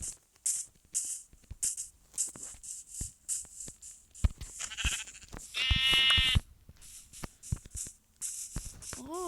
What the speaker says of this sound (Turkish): Ha tamam şurada bir beyazlık gördüm koyun.